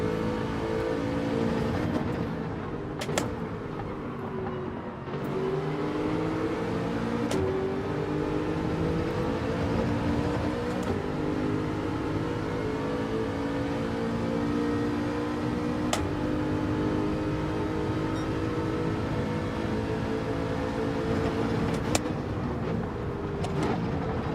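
Racing cars, including a BMW, roar around a track in Gran Turismo 7, engines droning steadily and rising and falling in pitch through gear changes, with occasional sharp clicks and bumps over the continuous motor noise.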